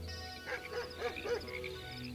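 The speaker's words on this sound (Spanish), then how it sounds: "Por allá a lo lejos 2 o 3 perros comenzaron a aullar." Faint dogs howl in the distance, several drawn-out wavering cries rising over a steady low background drone.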